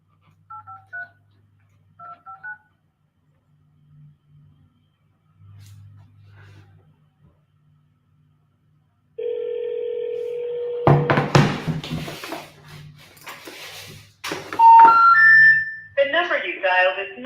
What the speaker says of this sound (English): we're just going to call this number because it's the only number that's available